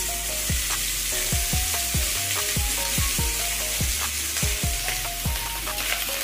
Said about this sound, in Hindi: अब हम इसमें डालेंगे राई